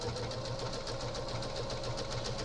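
Sewing machine running steadily while quilting a crazy quilt, a continuous motor whir with a fast even stitching rhythm, close and alone with no talk.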